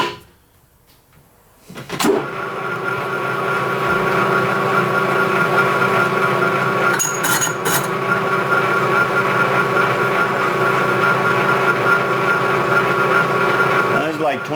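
A machine cuts a bore and then a chamfer for weld prep into a metal crusher part, a steady loud hum holding on from about the two-second mark to the end, with a few brief higher tool sounds partway through.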